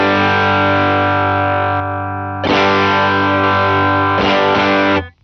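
Electric guitar played through a compressor pedal, sustained distorted chords ringing out, a brief drop in level, then fresh strums that hold before a final cutoff; loud and alone with no talking.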